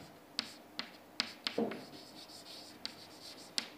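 A pen writes pseudocode by hand on paper, giving soft scratching strokes broken by sharp taps and clicks at irregular intervals, close and quiet with no voice.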